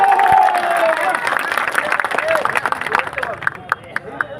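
A crowd claps and cheers to welcome Madhya Pradesh chief minister Mohan Yadav at a rally in Sarath, Deoghar, giving dense applause with crowd noise and a voice over a loudspeaker.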